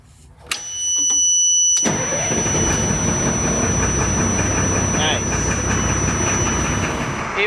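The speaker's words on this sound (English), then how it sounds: "See if it starts." An LMTV military truck's diesel engine cranks briefly and catches, then settles into a steady, loud idle that runs on close by without talk.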